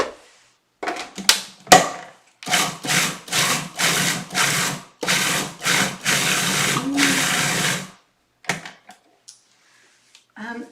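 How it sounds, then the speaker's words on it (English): A food processor pulses cardamom and pumpkin seed cookie dough in short, regular whirring bursts, about a dozen in a row, then a few brief final pulses before it stops. "We're using the pulse button so that we don't over process."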